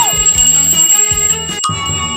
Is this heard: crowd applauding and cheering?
no